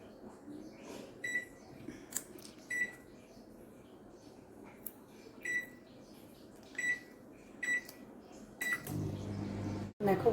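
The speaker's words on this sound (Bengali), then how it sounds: "মাইক্রোওভেনে মাইক্রো মোডে আবার 2 মিনিটের জন্য চালিয়ে দেবো" A microwave oven runs on micro mode while heating Maggi noodles with spices and water, giving a low steady hum broken by a regular series of short clicking ticks, with a louder clunk near the end.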